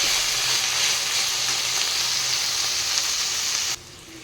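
Chopped ridge gourd frying over a high gas flame, a loud, dense, continuous sizzle that cuts off sharply near the end, leaving a quieter background hiss.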